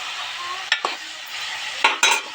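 Spiny bitter gourd (boda kakarakaya) curry with tomato sizzles gently in a pan while being stirred, giving a steady soft hiss broken by a few sharp metallic scrapes and clinks.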